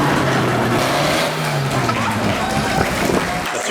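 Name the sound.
tractor engine revving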